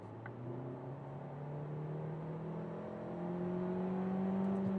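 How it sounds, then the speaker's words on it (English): A Kia Seltos in sport mode accelerates on the Autobahn: a steady engine drone rises gradually in pitch and loudness, heard from inside the cabin with road noise. "We can also put in sport mode. And let's see that we can do a first very quick acceleration, like 70 to 120."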